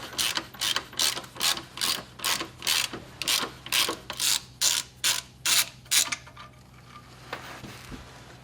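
A hand ratchet clicks through about a dozen evenly spaced strokes while loosening large car exhaust bolts where the pipe attaches to the turbo, close and loud, then stops and leaves faint rustling.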